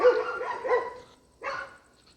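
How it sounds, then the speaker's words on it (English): Indoor dog barking close by, a run of quick barks followed by a pause and one more bark, clear and loud with nothing else heard. "the dog started barking immediately as I said her name"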